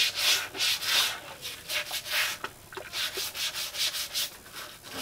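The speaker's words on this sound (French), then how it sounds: "elle est sale, on prend déjà une bonne petite brosse comme ça" A small brush scrubbing a dirty garden tool, with rhythmic, close, raspy bristle strokes repeating steadily back and forth, some strokes stronger than others.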